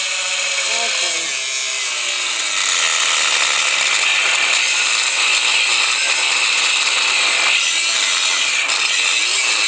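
A Harbor Freight Drill Master angle grinder runs under a stress test with a steady, loud, high-pitched whine. It continues without a break for the whole stretch, with faint shifts in pitch as it works under load.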